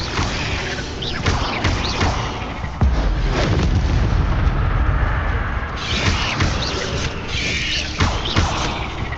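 A disarming spell in a Hogwarts video game sets off a run of heavy booms and thuds amid continuous rumbling magical combat, loud and close, with sharp cracking impacts scattered throughout.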